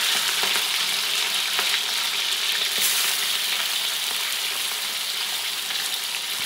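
Chicken and bean sprouts fry in hot oil with a dense, steady crackling sizzle that stays loud and close throughout, with no voices over it.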